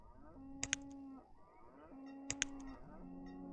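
Cattle in the video game Banished moo in two long, low calls, each accompanied by a sharp clanking bell-like tick, heard clearly against a quiet background.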